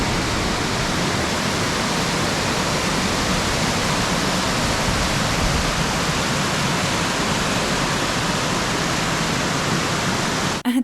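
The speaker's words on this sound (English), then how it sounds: "Take a detour around the edge of the lake and you will run into a beautiful waterfall." A waterfall beside Mazama Lake on a hiking trail roars in a dense, unbroken rush of falling water, loud and steady for the whole stretch with no voices.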